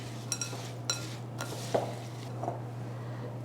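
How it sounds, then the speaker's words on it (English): A spoon works through wet and dry cookie ingredients in a bowl, giving a few soft scraping clicks and taps spaced irregularly over a steady low hum, quiet and close, with no talking. "Stir everything really well."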